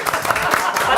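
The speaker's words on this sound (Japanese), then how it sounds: "拍手" Audience clapping at a product launch event for 30 Minutes Label merchandise, a dense steady patter of many hands filling the room for about a second, with speech mixed in over it.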